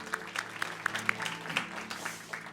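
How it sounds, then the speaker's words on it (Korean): A church congregation claps together during a worship service, a scattered run of hand claps at moderate distance with a soft room hum beneath. "우리 하나님께 영광의 박수 올려드리도록 하겠습니다."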